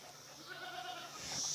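Goats bleating around a hay feeder, a few drawn-out calls rising toward the end of the clip, moderately close over faint farmyard background.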